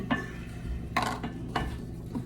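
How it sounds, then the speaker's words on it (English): A makeshift whisk stirring flour into a paste, a few scraping clinks against a bowl or pan spaced about half a second apart, close and fairly soft, with no talk. "And you just kind of keep whisking it."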